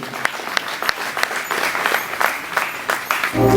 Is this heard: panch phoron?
no